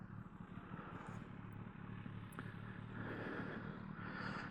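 A 2025 Kawasaki ZX6R motorcycle cruises down the road, its engine a low, steady rumble mixed with wind noise, heard fairly faintly and continuously.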